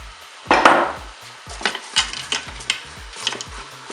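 Mushrooms go into a Cookeo multicooker pot with browning chicken thighs: a loud clatter, then a run of light scraping stir strokes against the pot over a soft sizzle.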